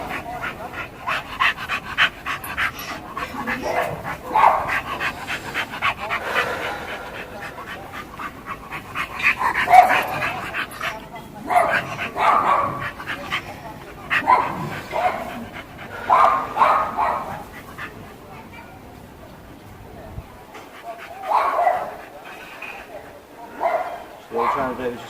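Several dogs barking, panting and yipping in neighbouring back gardens, intermittent bursts over steady talk, some near and some farther off.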